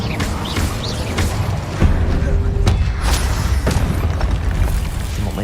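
Incendio fire spell cast in Hogwarts Legacy during combat, a dull whooshing boom with crackling bursts over a busy, steady game background, with some speech in the mix.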